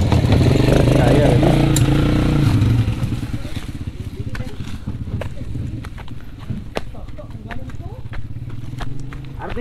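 A motorcycle engine rumbles loudly up close at first, then drops to a lower idle with scattered clicks and clatter, while people talk nearby in a rural village.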